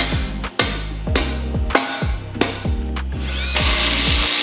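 Power tool fastening 16mm anchor bolts between an H-beam and its base while reinforcing a sagging terrace, heard as loud repeated bursts of driving with short pauses between them.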